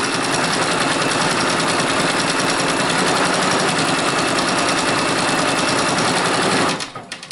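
A Brother Persona PRS 100 embroidery machine on a fast frame stitches a monogram onto boots, a steady rapid mechanical chatter running loud and close without pause, then cutting off abruptly near the end.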